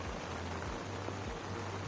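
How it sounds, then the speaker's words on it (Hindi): Heavy rain falls steadily at a resort near Pune, a dense continuous hiss of drops on surfaces with a constant low rumble beneath. "आप देख ही सकते हैं कि कितनी सारी बारिश हो रही है"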